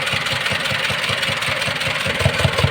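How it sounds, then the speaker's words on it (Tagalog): An engine with a leaking intake valve idling steadily with a rapid, regular puffing and knocking pulse, close and loud, with no voices. "ganyan ang tunog ng singaw na barbula sa intake"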